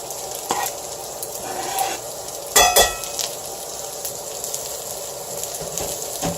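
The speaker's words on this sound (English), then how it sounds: "I'm going to cook this in the butter for a little bit, just to kind of take the edge off of it" Chopped red pepper and onion cooking in butter in a pan, a continuous close sizzle broken by a few utensil scrapes and a brief louder clatter midway.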